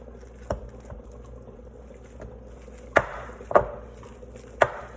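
Skinned sausage meat being broken up with a utensil, several sharp taps and clacks against a board or bowl at irregular intervals over a quiet background, no speech.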